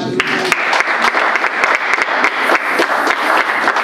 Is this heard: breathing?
no